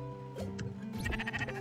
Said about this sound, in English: Find and shelter all sheep.